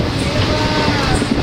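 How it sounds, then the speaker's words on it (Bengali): Passenger train near Bardhaman rattling and shaking while moving, a loud dense rumble heard from inside the carriage in a short continuous burst. "আমাদের ট্রেনটা ডান্সিং ট্রেন হয়ে গেছে, নড়ছে দেখ কীভাবে"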